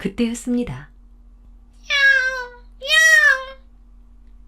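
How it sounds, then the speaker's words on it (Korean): An angry cat yowls twice in long, harmonic cries, each lasting about a second, loud and close. A narrator speaks Korean briefly before the cries. "성난 고양이의 울음소리가 들렸지요."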